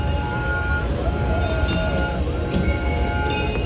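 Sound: amusement ride train at a beach fun area

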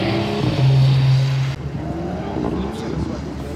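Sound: BMW car engine on a skidpan

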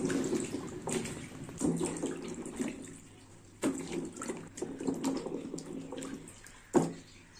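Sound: washing carrots in water

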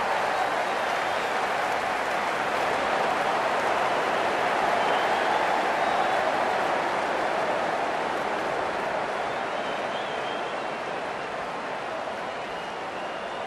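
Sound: excited cricket crowd cheering

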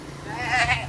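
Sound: goat bleating

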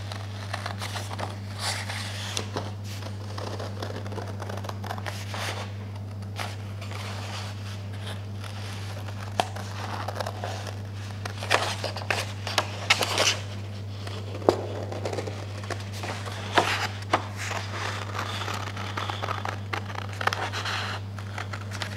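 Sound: cutting out a paper template

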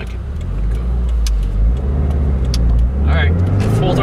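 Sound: tuned 2015 Subaru WRX engine accelerating at full throttle

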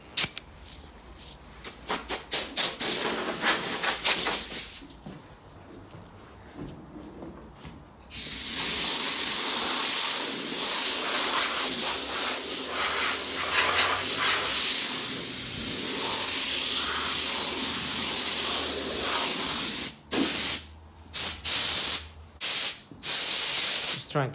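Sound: spray gun spraying lacquer

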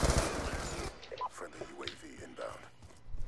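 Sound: gunfire in a shooter video game

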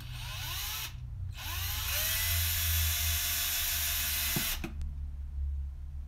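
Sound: Craftsman drill drilling vent holes in RC tires

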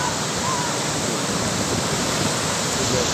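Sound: ocean waves at Parangtritis beach

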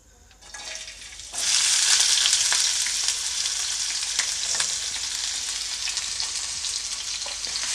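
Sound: finely chopped onion frying in hot oil

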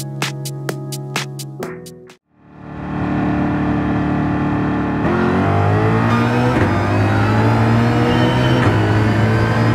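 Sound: Ford Mustang GR3 race car engine in video game Gran Turismo 7

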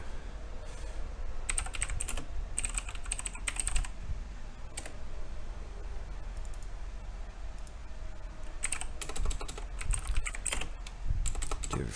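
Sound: typing a file name on a computer keyboard

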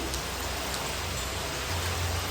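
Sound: rain falling

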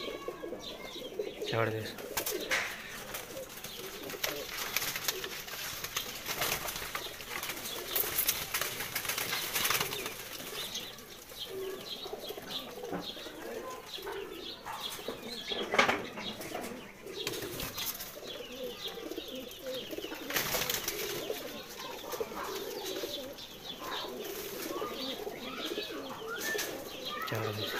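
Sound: pigeons cooing and flapping wings

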